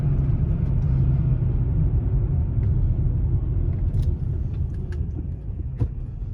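A BMW X5 Sport with a rare 6-speed manual shifts into third gear while driving, giving a steady low engine and road rumble heard from inside the cabin, easing slightly toward the end.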